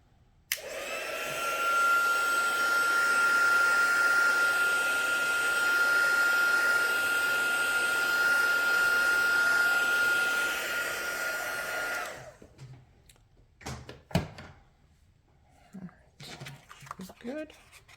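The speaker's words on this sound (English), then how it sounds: "I'm just going to hit it with the heat gun again, just to make sure that we're dry." A heat gun drying a handmade card blows with a loud, steady whirring roar for about eleven seconds and then switches off, followed by light handling clatter and a sharp knock.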